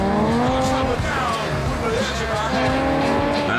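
A supercharged 375-horsepower Jaguar F-Type sports car drives hard, its engine note rising and falling through gear changes with some tyre squeal, loud and close throughout, with a voice briefly heard over it.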